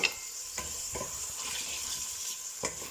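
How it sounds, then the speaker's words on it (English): Chorizo sizzling in a hot pan for a Spanish stew with pork ribs, potatoes and lentils, a steady frying hiss with a few sharp stirring scrapes. "after another minute, I'm going to add the chorizo"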